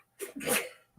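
A single sharp sneeze during a relaxed livestream chat, close and fairly loud, followed by a brief breathy sound.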